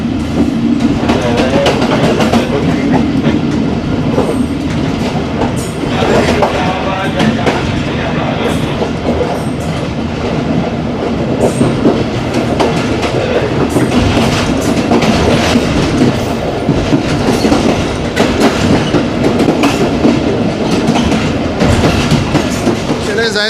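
A Pakistan Railways train rolls past the Jaffar Express standing on a side line at Missa Swan station, heard from inside the guard's cabin as a loud, steady rumble with clickety-clack wheel rhythm throughout.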